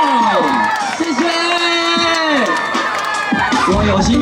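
A concert crowd cheers and shouts at a beach music festival in Zhubei as a singer is welcomed, with high whoops and sustained voices layered over a loud announcer talking.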